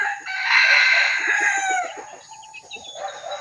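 A hybrid red junglefowl (labuyo) rooster with black legs crows once, loud and close, its call rising then trailing off, followed by softer clucking and rustling.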